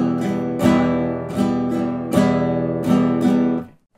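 Acoustic guitar strummed with chords in a beginner's strumming pattern, with bright rhythmic down and up strokes and accented beats, ringing out and then stopping.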